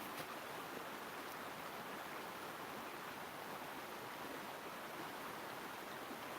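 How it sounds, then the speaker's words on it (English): A creek in British Columbia's Okanagan carrying floating chunks of ice, heard as a steady, faint broadband rush of flowing water with no voices. "I just saw a chunk of ice float down the creek here."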